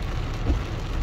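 Rain falls steadily at a beach in Itapema, Santa Catarina, a continuous broadband hiss with a rumbling low undertone, even in level from start to finish with no voices.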